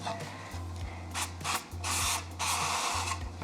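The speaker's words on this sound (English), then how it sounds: "I'm just gonna grease them lightly with some nonstick oil spray." Several short hissing bursts of nonstick oil spray greasing loaf pans, each lasting a fraction of a second to half a second, close by over a faint low hum.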